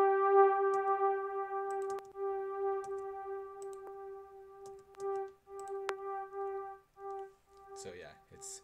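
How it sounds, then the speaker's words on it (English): A soft, dark synth pad without a low cut holds a steady sustained tone with pulsing swells, quiet and alone, with faint clicks scattered through it. "It's like a soft pad sound."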